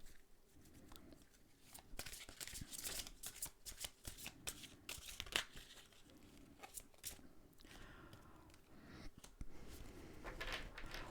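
Oracle cards being shuffled and drawn, a dense run of crisp riffling and papery slaps with brief pauses, close and fairly quiet, with no talk over it.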